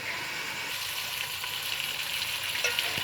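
Steady sizzling of onions, garlic and spices browning in a pan, a continuous bright hiss with no talking.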